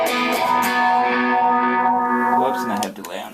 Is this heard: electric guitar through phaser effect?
yes